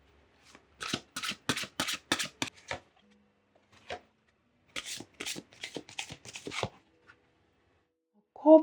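Oracle cards being shuffled for a tarot reading, two clear bursts of rapid riffling and slapping near the mic separated by short pauses, with a brief knock at the end.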